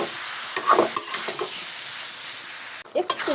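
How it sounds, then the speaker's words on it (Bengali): Boiled jackfruit and potatoes with spices sizzle in a pan while being stirred, with scraping strokes rising over a steady frying hiss and a brief lull near the end. "এটাকে একটু ভালো করে কষাতে হবে।"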